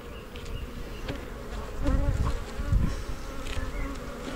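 A dense swarm of honeybees buzzes continuously close by at an open hive, a busy droning hum that swells and fades slightly.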